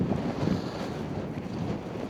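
Strong gusting wind buffets the microphone on an exposed hilltop in the Yorkshire countryside, a steady roaring rumble with no voices.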